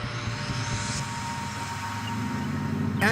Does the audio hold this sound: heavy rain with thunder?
no